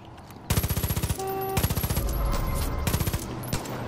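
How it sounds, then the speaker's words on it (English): Bursts of machine gun fire in the video game Far Cry 5, aimed at a bear, come in three loud rapid volleys separated by brief pauses. "Why did I try to attack a bear with a freaking machine gun?"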